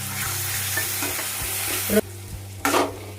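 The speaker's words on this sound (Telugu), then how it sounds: "ఇప్పుడు దీనిలో కప్పు పెరుగు తీసుకొని బాగా కలుపుకోండి" A chicken and onion masala mixture with yogurt stirred in a pan, close sizzling with spoon scrapes for a couple of seconds, then a brief pause and a short burst of stirring.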